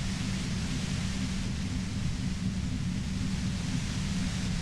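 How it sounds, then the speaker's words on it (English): A compressor in a point-and-click video game gives off loud, steady white noise, a dense unbroken hiss with a heavy low rumble that holds constant throughout, with no voices. "The violent white noise becomes even more overwhelming closer to the compressor."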